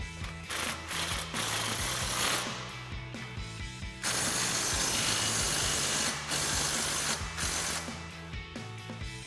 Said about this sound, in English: we're going to grab our impact, extension,